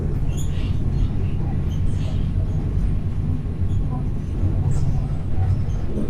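A moving train on a journey through northern Bangladesh near Phulbari, Dinajpur, rumbling steadily with a continuous low clatter and road-like roar throughout, with no clear voices.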